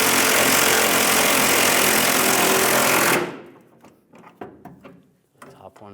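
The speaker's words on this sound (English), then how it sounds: "Now using a 21 millimeter socket and a 19 millimeter wrench," An impact tool with a 21 mm socket drives the leaf spring bolts on a 2007-2013 Chevrolet Silverado 1500, a loud continuous rattling buzz at close range that cuts off abruptly, followed by a few faint clinks of tools.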